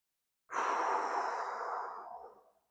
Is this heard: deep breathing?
yes